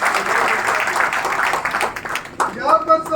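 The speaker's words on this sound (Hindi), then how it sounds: "जोरदार तालियों के साथ स्वागत किया जाए" Crowd applause at a farmers' langar blood donation camp in Julana, welcoming a speaker: dense, steady clapping that fills the clip and thins toward the end, where a voice briefly cuts in.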